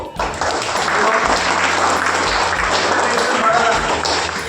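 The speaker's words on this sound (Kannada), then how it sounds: "ಅವ್ರಿಗೂ ಚಪ್ಪಾಳೆ ಹಾಕ್ಬೇಕು ನೀವು" An audience claps for trainees at a training-and-employment graduation day event, a dense, sustained round of applause that fills the room from nearby, with a voice speaking underneath.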